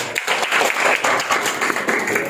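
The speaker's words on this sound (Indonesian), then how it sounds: "Tepuk tangan" Brisk applause from a class during a teacher's practice lesson, many hands clapping close and fairly loud in a busy, slightly choppy burst that carries evenly through the short span without any talking.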